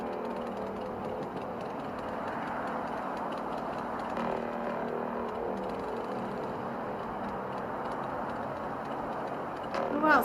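A mid-pitched motorcycle engine hums steadily in the distance, with a brief louder burst near the end.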